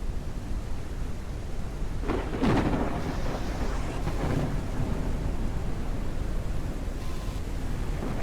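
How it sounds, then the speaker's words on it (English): Thunderstorm in the airship survival game Forever Skies: steady rain hiss with a sharp thunder crack a couple of seconds in, followed by lower rumbling that fades back into the downpour. "Storm will probably be passing in just a second, though."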